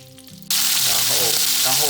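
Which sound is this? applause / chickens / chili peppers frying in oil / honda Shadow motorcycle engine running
chili peppers frying in oil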